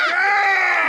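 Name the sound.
people screaming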